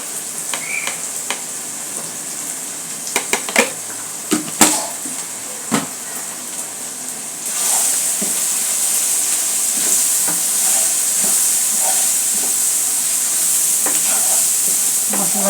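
Ground spices with coriander powder and salt being sautéed in a pan for chicken mince bhuna, with scattered spoon scrapes and taps over a light sizzle, then a sudden loud steady hiss of frying for the second half.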